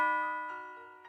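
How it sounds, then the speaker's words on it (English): A doorbell rings in the visual novel NekoPara, one bright sustained chime tone decaying steadily over about a second, clean and alone. "Ding dong!"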